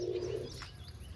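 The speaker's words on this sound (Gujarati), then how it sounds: "નાના નાના બચ્ચા થયા હે ભાઈ કબૂતરના મારા" Pigeons cooing in a home loft where young squabs have just hatched, a low throaty coo rolling steadily through the first half second, then softer bird sounds close by with no talking.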